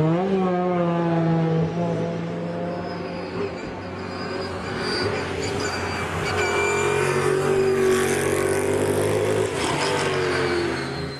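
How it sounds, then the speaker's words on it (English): A BMW Z4 GT3 race car on a shakedown run, its engine note rising and falling through gears with gear whine, loud and continuous, rasping harmonics sweeping up and down. "let me show you what a right turn is all about, Z4 GT3, working through its shakedown"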